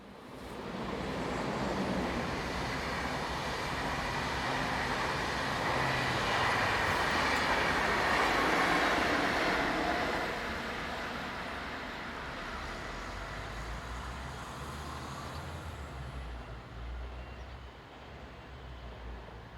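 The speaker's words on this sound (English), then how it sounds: "511030 is working train RE4764, the 942 from Wettingen to Olten." A Swiss locomotive-hauled RegioExpress train, class 511 unit 030, on the Wettingen to Olten service, rumbles past with rising then fading wheel noise and carriage clatter, loud at its peak before easing off.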